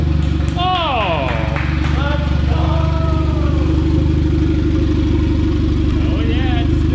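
A turbocharged Honda Civic with a B18 engine swap cranks and runs with a steady low rumble, loud and close, while a voice talks excitedly over it.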